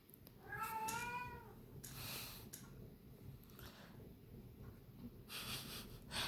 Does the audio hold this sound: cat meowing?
yes